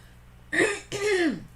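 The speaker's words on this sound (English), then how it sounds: "sometimes clearing my throat quietly doesn't quite work" Two harsh throat-clearing rasps in quick succession, close and fairly loud, the second longer and ending in a falling grunt.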